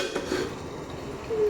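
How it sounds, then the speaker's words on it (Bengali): A lid goes onto a cooking pot with a short metallic clatter of cookware, close and brief, alone with no talk. "আমি একটা ঢাকা দিয়ে একটু ঢেকে দেবো।"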